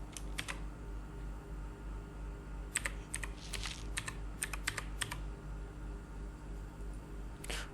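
Typing on a computer keyboard while entering a YouTube video description: irregular bursts of light, close key clicks, scattered and clustered, over a steady low hum with no talking.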